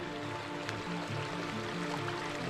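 A mountain creek in the High Uintas, near a meadow and ridge below a lake, flows with a steady broadband rush and gurgle, continuous and moderately close, with no voices.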